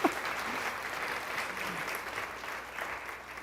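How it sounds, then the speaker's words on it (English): An audience at an awards ceremony applauds in a steady, moderately loud round of clapping that tapers slightly toward the end, with a faint voice or cheer briefly audible near the start. "let's give a round of applause"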